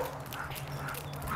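A dog barks and whimpers at close range in short yappy bursts over a low steady hum, with no talk.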